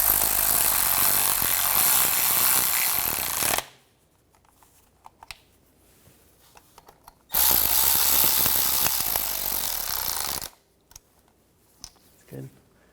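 A ratchet tightening starter nuts on a 2013-2019 Ford Escape 2.0L, two bursts of rapid close clicking, each lasting about three seconds, separated by quiet with a few faint knocks.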